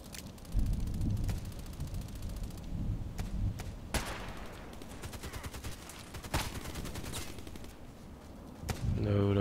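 Gunfire in a multiplayer shooter match, with sharp shots and bursts cracking at intervals over a dense, rumbling battle background, moderately loud.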